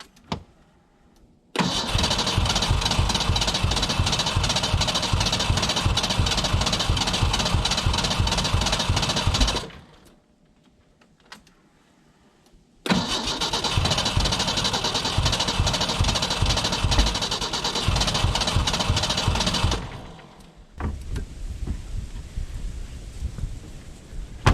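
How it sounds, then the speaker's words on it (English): An old Ford Ranger left abandoned in the woods for years cranks in two long bursts of rapid rhythmic starter chugging, separated by a pause, without catching. A rougher, quieter engine sound follows briefly at the end, close and loud. "It is right there. It wants to so bad."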